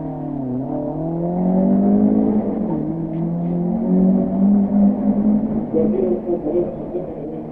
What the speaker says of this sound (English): And first away is the Lancia.